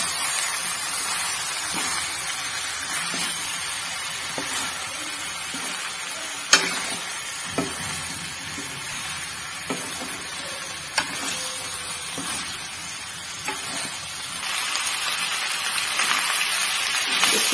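Potatoes and peas fry and sizzle in a pan in a dense, steady crackle, with a spoon stirring and scraping and occasional sharp knocks against the pan, close and loud without any talk.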